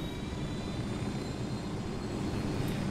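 Helicopter flying in the PC video game Ghost Recon Wildlands, heard from inside the cabin as a constant, loud low rotor and engine roar with a steady drone and no talk.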